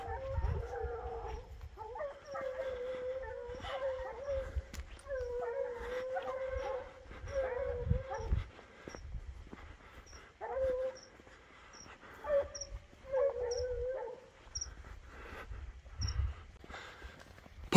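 Hunting dogs on a wild boar hunt in Brazil howl and bay repeatedly at moderate distance, in overlapping drawn-out cries and yips with brief pauses, over faint rustling.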